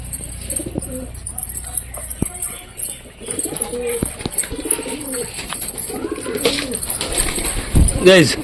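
Pigeons coo softly in low, throaty bursts among fluttering and scuffling, with a voice talking intermittently and a high hiss in the background.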